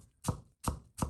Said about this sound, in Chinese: 再来1个土豆，去皮，先切成厚片，再切成长条，改刀成小丁